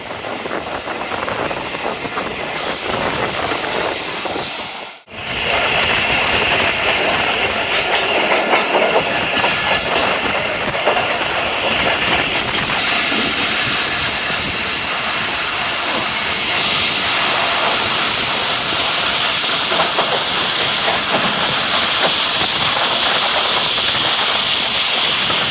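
The Khyber Mail passenger train runs between Rawalpindi and Multan with a loud, continuous rumble and rattle of carriages on the rails. A brief dip near the start breaks the noise before a steady clatter resumes and holds to the end.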